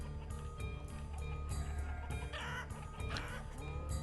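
Chickens clucking in the village-building game Banished, a steady cluster of fowl calls and short cackles over a constant low ambient hum, with no talk.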